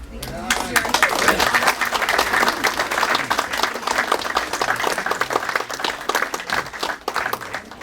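Audience applause at a knife makers' grind-in event: sustained dense clapping from a crowd in a room, steady and fairly loud throughout.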